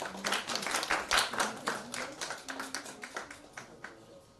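Audience applause at an International Space Science Olympiad award ceremony: a burst of many hands clapping, dense and lively at first, then thinning into scattered, fading claps over about four seconds.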